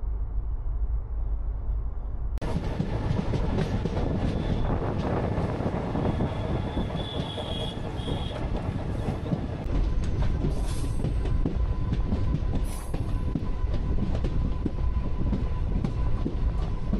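The Uttarbanga Express rolls into Falakata station, a loud, steady rumble of wheels and carriages that swells after a few seconds, with brief high wheel squeals over the continuous clatter.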